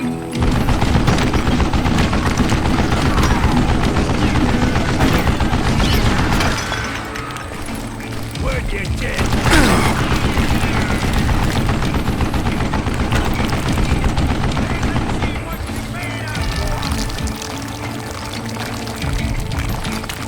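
Sustained machine gun fire in the Western shooter game Call of Juarez Gunslinger, a loud, dense, continuous rattle of rapid shots lasting throughout without a break and with no voices.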